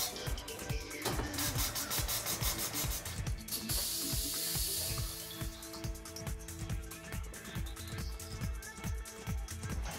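TWIN BUSCH TW X-36 tyre changer lifting a tyre with the help arm plate, giving a steady mechanical grinding hum with rapid ratcheting clicks and a short hiss of air partway through.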